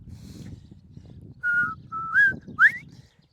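A man whistles an imitation of a bobwhite quail call, three short rising whistled notes heard close over faint low background rumble.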